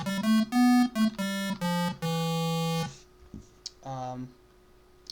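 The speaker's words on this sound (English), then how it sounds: "Now it's a square wave, so it sounds like this." Retro square wave synth lead from FL Studio's Harmor plays a short run of buzzy, hollow staccato notes ending in one held tone, followed by a brief spoken remark over a faint hum.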